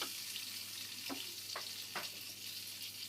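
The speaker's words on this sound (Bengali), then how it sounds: "বেগুন আমি দিচ্ছি লাল করে ভেজে নিতে হবে" Eggplant slices frying in hot oil give a dense, continuous crackling sizzle, with a few soft spatula knocks breaking through at intervals.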